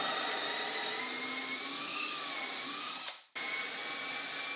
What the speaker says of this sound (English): now I just need to drill out the corresponding holes for the dowels in the bottom of this piece